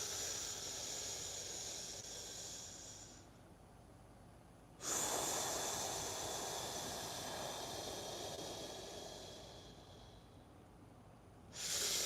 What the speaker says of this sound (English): The third technique is resonance breathing, also called coherent breathing.